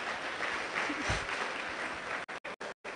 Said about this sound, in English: I would like for you to give a round of applause to our top 12 finalists